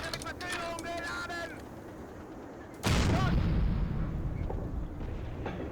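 A StuG III assault gun fires a high explosive shell in the Steel Fury tank game, a single loud booming report with a long rumbling tail, preceded by quieter engine and ambient noise.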